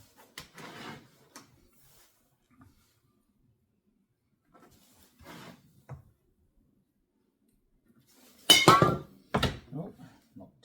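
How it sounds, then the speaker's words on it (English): A sudden clatter of a metal tin of silicone spray tipping and hitting a hard surface, with a couple of sharp knocks, after quieter workshop shuffling and bumps. "Oh, knocked tin of silicone spray over."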